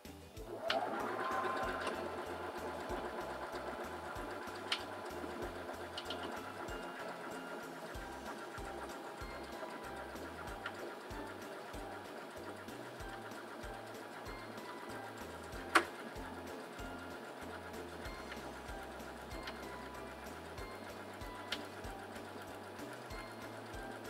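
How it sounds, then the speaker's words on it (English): A Singer Simple 3337 sewing machine stitches out a buttonhole, a steady, fairly quiet mechanical whir with rhythmic ticking and occasional clicks, running alone throughout. "And now we're ready to sew out our buttonhole."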